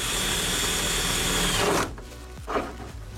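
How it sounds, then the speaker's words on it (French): Power drill boring into the body of a Toyota Hiace 4x4 van, a steady close whine that stops abruptly partway through, followed by a few faint knocks and handling noises. "Allez, c'est parti, on perce."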